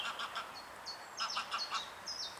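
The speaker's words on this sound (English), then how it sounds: "You hear the bird? It's laughing." A bird gives a rapid run of cackling, laugh-like calls in a wet woodland near Bishopstoke, Hampshire: short repeated bursts, fairly close and clear over quiet outdoor background.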